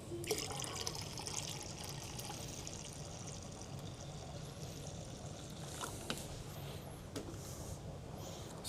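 Vinegar pours steadily into a container as brine is mixed for pickling quail eggs, a continuous close splashing trickle with no talk over it.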